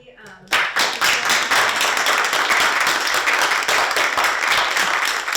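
A theater audience at a book talk bursts into sustained applause, dense and loud clapping that continues evenly, after a brief moment of quieter sound.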